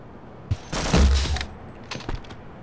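A sniping weapon fires in Half-Life VR: a sharp shot, then a loud, rumbling burst of fire lasting about half a second, and a few lighter cracks after it.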